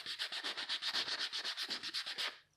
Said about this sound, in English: that's the only part I'm sanding down now